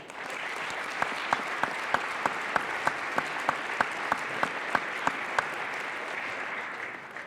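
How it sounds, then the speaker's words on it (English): An audience at a university press conference announcing a new men's basketball coach breaks into sustained applause, an even roar of clapping punctuated by regular sharp clicks. "Another round of applause, please"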